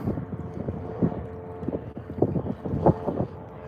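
Wind buffets the microphone at a dock during a fishing outing, a loud, close, continuous low rumble with gusty surges and faint water sounds, with no voices.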